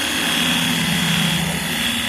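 A small pressure washer runs with a steady, loud motor drone and a constant hiss, unbroken across the short stretch.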